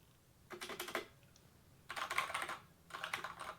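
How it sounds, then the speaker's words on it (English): Fast bursts of typing on a custom-made mechanical keyboard with Cherry Brown switches, three separate runs of dense clicky keystrokes close up, with short quiet pauses between them and no talking. "This is a keyboard that I had custom made also from Drop. It has cherry brown keys."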